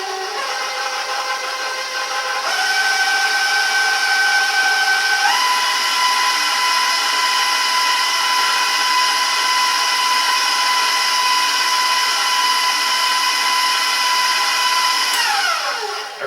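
An electric mixer whirs steadily through blueberry coffee cake batter, its motor pitch stepping up twice and then winding down near the end, loud and close with no talking.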